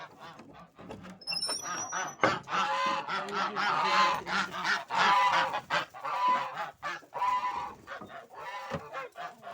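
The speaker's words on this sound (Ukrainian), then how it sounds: "Тому зараз відкриваю птицю свою." Geese honk loudly and repeatedly, mixed with other farmyard fowl calls, a busy chorus of poultry close by as they are let out of the coop in the morning, with no talking.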